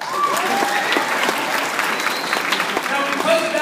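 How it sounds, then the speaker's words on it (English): Audience clapping for a Dallas poet at a spoken-word poetry event, dense sustained applause filling the room with faint voices mixed in. "You can clap for that"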